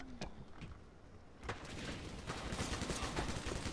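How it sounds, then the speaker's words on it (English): Rapid gunfire in the video game Dino D-Day crackles in dense, overlapping bursts as the player takes hits, with sharp shots early and a continuous volley building over the last two seconds. "Oh crap, I'm getting shot."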